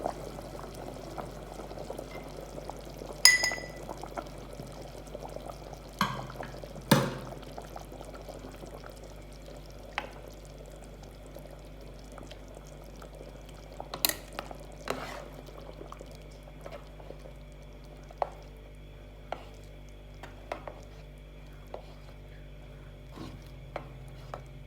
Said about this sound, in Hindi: अब मैं इसमें ऐड करूँगी 2 अंडों की सफ़ेदी